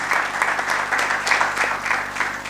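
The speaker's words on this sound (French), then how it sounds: "je vous demande quand même de l'applaudir" Steady applause from an audience at a press-union election meeting in Kinshasa, a dense clatter of many hands pulsing in waves and holding loud for the whole stretch.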